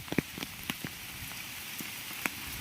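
Rain falls steadily around a flooded rural house, a soft continuous patter with scattered closer drops striking surfaces at irregular moments, fairly quiet overall.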